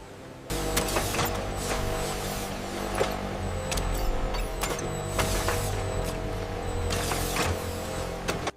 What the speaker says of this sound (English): Computer-controlled cutting ensures remarkable precision.